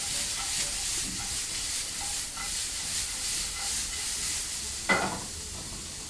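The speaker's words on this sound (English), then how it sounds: "proceed to add your red onion. Toss a few times, allowing the mixture to mix through." Chopped red onion sizzles steadily in a hot pan during butter chicken preparation, with a soft scrape and a brief clatter as the mixture is tossed.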